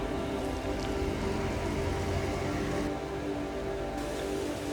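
Steady rain falls over low-lying water where St George's Basin drains into the ocean near Sydney, a dense even hiss of drops on surfaces lasting throughout, with no voices.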